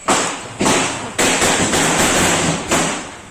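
Diwali firecrackers set off outside a house, five loud sharp bangs at uneven intervals, each followed by a short crackling decay.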